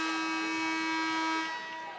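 A basketball game's horn buzzer sounds at halftime in a women's college game, one loud sustained electronic blare holding steady for over a second before fading under arena noise.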